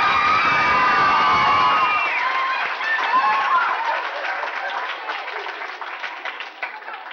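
A crowd at a school spelling bee claps and cheers steadily for the winner, with some shouting voices mixed in, the applause slowly thinning toward the end.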